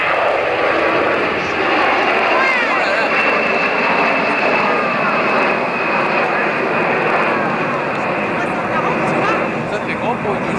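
An Airbus A340 airliner flying past at the 1999 Paris Air Show at Le Bourget, its jet engines roaring loudly and steadily, with a rushing whine that sweeps across, over crowd noise.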